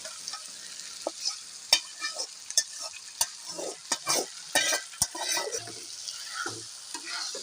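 Boiled taro leaves being stirred into sizzling fried masala in a pan, with irregular scraping strokes of a spoon and soft frying crackle, close and moderately loud.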